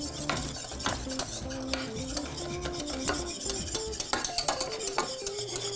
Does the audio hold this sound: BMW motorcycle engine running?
no